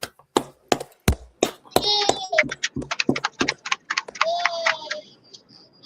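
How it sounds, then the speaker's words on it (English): Audience clapping, heard as a handful of sharp, separate claps in a steady rhythm at first, then continuing as scattered claps under chanting voices. "let's clap it up"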